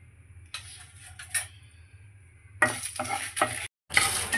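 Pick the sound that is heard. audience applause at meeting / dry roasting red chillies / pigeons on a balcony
dry roasting red chillies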